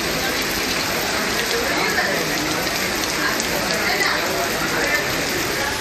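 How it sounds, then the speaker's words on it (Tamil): Heavy rain falling during a thunderstorm in Tamil Nadu, a dense, loud, continuous wash of rain on surfaces with no pauses. "இடி மின்னலுடன் கனமழை பெய்தது"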